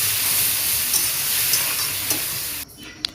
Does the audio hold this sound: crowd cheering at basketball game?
no